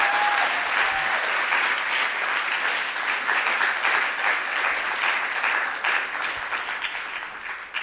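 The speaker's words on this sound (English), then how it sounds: "Can we give a round of applause" Audience applause at a speaking event honoring Consuelo Castillo Kickbusch, a steady, dense clapping from a full crowd that carries loudly throughout and tapers slightly toward the end.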